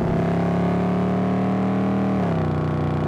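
Mercedes-Benz car driving through Beverly Hills, turning right off Sunset Boulevard onto Beverly Drive: a steady, close engine drone with a low hum that dips and shifts in pitch near the end as the car turns.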